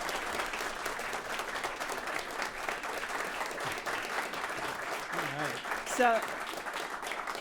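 A live audience applauds the hosts of a podcast recorded before a New York crowd, sustained dense clapping filling the room, with a brief spoken word near the end.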